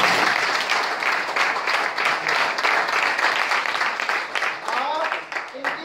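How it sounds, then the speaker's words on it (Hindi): Audience applause fills a training seminar hall, a dense, continuous wash of clapping held at steady loudness for several seconds before a voice begins speaking near the end. "एक जोड़ा ताली हो जाए इनके लिए।"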